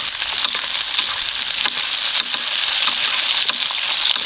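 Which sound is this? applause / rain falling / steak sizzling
steak sizzling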